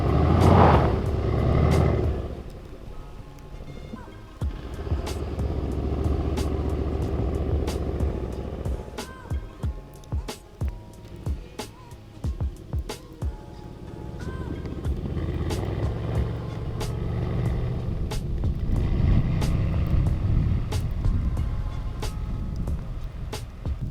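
A Mercedes C63s AMG, rear-wheel drive, drives on snowy road with traction control, its engine a steady loud drone with bursts of revving and rhythmic clicks and thumps midway, heard without talk.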